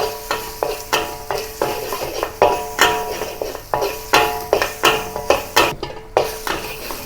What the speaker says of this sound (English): With the remaining oil, saute the garlic and ginger, the chopped garlic and ginger, over low heat